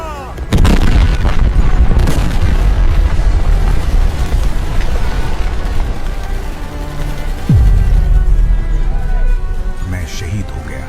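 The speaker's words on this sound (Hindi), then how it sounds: "फिर एक दूसरा टैंक का गोला चंद इंच दूर आकर फटा" Tank battle effects for a 1971 war scene at Sabuna Ridge: a loud, continuous roar of artillery and gunfire with rumbling blasts, a descending whistle near the end, and a narrator speaking over it throughout.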